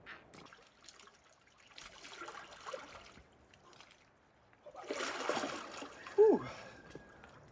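Water splashes and sloshes close by as someone climbs into an outdoor ice-cold pool, with quiet trickling at first and then a louder stretch of splashing as they move through it.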